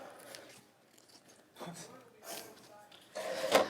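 Scissors snipping small darts along a fabric edge for an embroidery hoop craft, a few short crisp cuts near and clear, with someone talking between them.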